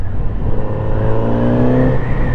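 A Kawasaki Z900 RS engine hums steadily at fairly low revs, with a rising whine that climbs and then drops off, heard close and alone with no talking.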